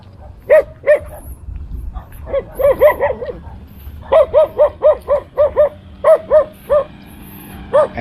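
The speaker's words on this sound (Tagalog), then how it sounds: "Ayan yung aso" A dog barks repeatedly and fairly close, in short clusters of sharp barks separated by brief pauses, over a low background rumble.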